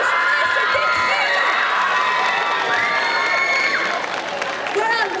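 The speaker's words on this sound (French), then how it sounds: "plein d'applaudissements parce que c'était une première presta" A cosplay parade crowd at Bordeaux Geekfest 2024 cheers loudly and applauds a first stage performance, with high excited shouts and children's voices. The crowd noise holds steady throughout, dipping slightly near the end.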